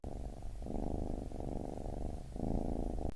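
A cat purrs steadily and close up in a cat cafe, a continuous low rumble that swells and dips with each breath, alone with no talk over it.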